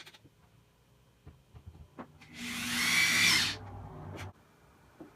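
A power drill bores into a ceiling while a surfboard rack is mounted, giving a single loud, steady whine of about a second and a half, preceded and followed by faint handling knocks, with no talking.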